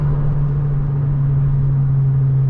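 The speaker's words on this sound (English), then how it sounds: "Y'all hear this car though." Honda Civic Si turbo engine under a hard pull, a steady loud drone with a strong low hum holding level throughout, close and continuous with no talk.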